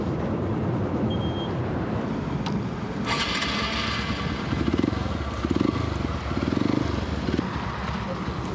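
A motorcycle engine runs nearby amid outdoor street noise, a low rough rumble with a few louder bursts of revving in the middle.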